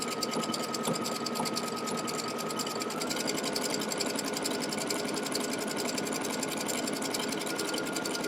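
Sewing machine running steadily while stitching a pin stitch on lace, a close, continuous rapid mechanical whir with fast even needle clatter that holds one pace throughout, with no voices.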